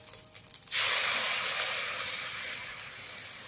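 Fried rice sizzles loudly in a hot pan, a sudden burst of crackling, hissing frying starting under a second in and holding steady to the end, with no talking.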